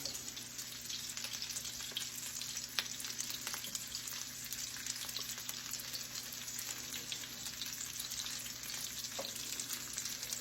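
Chicken frying in hot grease in a skillet, a steady continuous sizzle with crackling pops, no voices over it.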